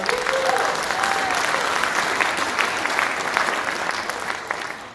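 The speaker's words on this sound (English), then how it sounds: "Give them a huge round of applause." A crowd applauds a middle school jazz band at an evening jazz concert, sustained loud clapping and cheering that slowly tapers off.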